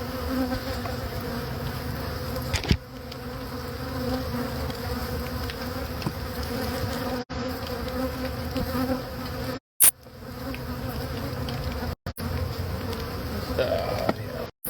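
Dense, continuous buzzing of a honeybee swarm during removal of a hive from roof eaves, loud and close, with a few brief knocks and dropouts along the way.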